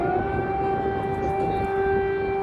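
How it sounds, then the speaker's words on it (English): Air raid sirens wailing over Kyiv, Ukraine, at night during reports of Russian attacks: a loud, sustained civil-defense siren tone holding steady, alone without voices. "air raid sirens sounded in the Ukrainian capital on Tuesday night"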